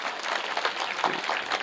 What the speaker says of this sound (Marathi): एकदा सर्वांनी जोरदार टाळी वाजवा